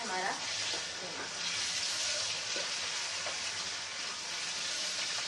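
Minced meat frying with browned ginger garlic paste for stuffed bitter gourd, a steady broad sizzle and hiss throughout with a few faint stirring clinks, quiet and close.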